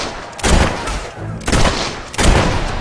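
Gunfire from an action film scene: three heavy broadband bursts of shooting, each a sustained volley rather than a single crack, loud and close with a dense rumbling tail between them.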